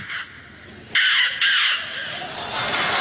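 A voice imitates a crow, giving a few loud, harsh caws in short bursts close up.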